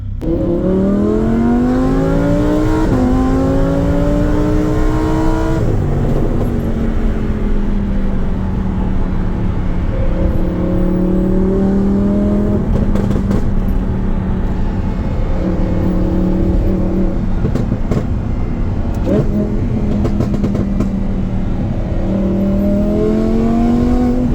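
A Lamborghini Huracan exhaust with catalytic converters removed revs steadily throughout, the engine note climbing and dropping in repeated loud pulls, close and continuous with no talking.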